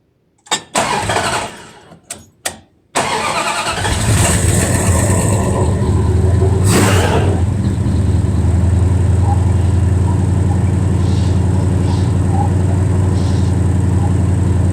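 A long-stored Dodge Dart's engine cranks a few times in short bursts, then catches and settles into a steady, loud idle.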